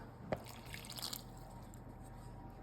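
Water pours into chocolate cake batter in a mixing bowl, a faint trickling splash after a brief knock, quiet and close with no talking.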